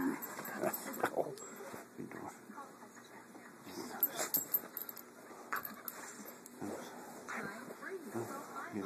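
A dog whimpers and whines in short irregular bursts at a low level, mixed with people talking over it indoors.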